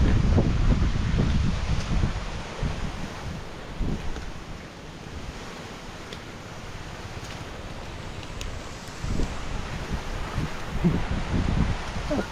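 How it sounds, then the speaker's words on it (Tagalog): Strong wind buffets a microphone outdoors at a building project site, a steady heavy roar of gusts and rumble that swells at the start and end, with no voices. "ang lakas ng hangin"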